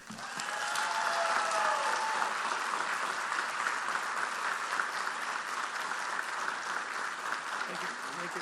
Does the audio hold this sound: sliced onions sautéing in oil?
no